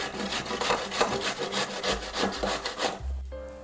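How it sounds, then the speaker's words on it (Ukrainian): Repeated rough rasping strokes of peeled zucchini being grated on a coarse grater, steady back-and-forth rhythm, fairly close, then a brief pause. "Натираємо на крупній терці."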